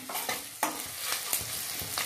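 Green chillies sauté in a pan over high flame for a few seconds while being stirred, giving a steady close sizzle punctuated by scraping stir strokes, with no talk.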